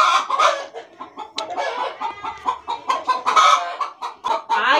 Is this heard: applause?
no